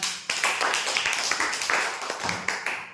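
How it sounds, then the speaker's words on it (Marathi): Applause breaks out for the winner of a quiz game, a steady burst of dense, close hand clapping that carries on through the whole moment. "जोरदार टाळ्या"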